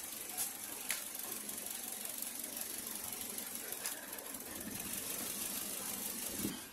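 A car engine idles with a fuel injector connector pulled off, giving a steady, uneven mechanical drone with faint ticking and a few brief clicks, heard without talk.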